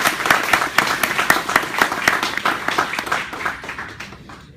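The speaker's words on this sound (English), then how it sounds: "A big round of applause for him." A big round of applause greets Infosys founder Narayana Murthy as he is introduced, dense clapping that runs steadily for several seconds before thinning and fading out, with no talk over it.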